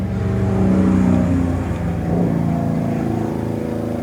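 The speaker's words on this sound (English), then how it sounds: "sorry about the traffic." Road traffic rumbles steadily nearby as a car's engine swells and passes, a continuous loud motor drone with no voices.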